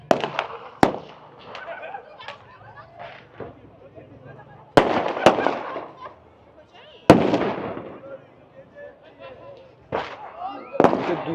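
Firecrackers and grenade-style bangers explode at a nighttime Chaharshanbe Suri street party in Iran, sharp loud blasts going off every few seconds with crackling tails and echo, amid crowd chatter and voices talking nearby.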